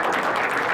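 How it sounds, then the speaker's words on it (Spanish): Dense, continuous applause from a crowd honoring a guest speaker at a political talk, a steady wash of many hands with no clear individual claps. "el último aplauso obviamente se lo damos a nuestro distinguido invitado compañero"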